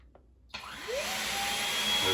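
A Samsung Jet 90 stick vacuum cleaner switches on after a brief click, its motor whining upward in pitch as it spins up, then settling into a loud, steady, close-up roar.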